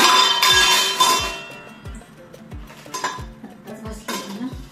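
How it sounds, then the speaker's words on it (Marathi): Washed steel dishes and utensils being put away at home in the evening, with repeated close clinks, clatters and knocks of pots, plates and cutlery set down one after another. No one talks. "भांडी पण लावते"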